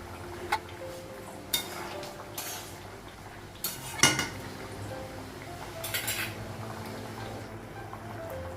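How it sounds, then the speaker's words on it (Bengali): A lid is lifted off a cooking pot on a home kitchen stove: scattered metallic clinks and taps, with one sharp, louder clank partway through, over a low steady background hum. "ঢাকনাটা উঠাবো"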